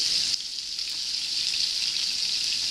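Steak frying in butter with garlic in a pan, giving a steady, continuous sizzling hiss at an even level throughout, with no voices.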